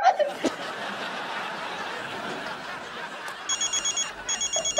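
A telephone rings in a domestic comedy scene, with short electronic ring bursts repeating rhythmically near the end over laughter and background noise.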